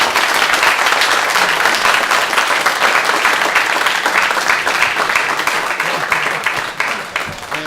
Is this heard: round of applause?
yes